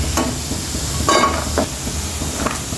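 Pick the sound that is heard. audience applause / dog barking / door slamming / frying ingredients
frying ingredients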